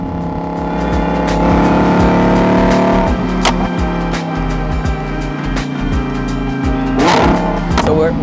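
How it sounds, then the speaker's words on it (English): A Lamborghini Huracan Evo engine in Corsa mode, loud and close, revving in a strong rising roar that drops off around the third second and swells again near the end, with sharp crackling pops between pulls. "I hope the mic picks up how good this car sounds."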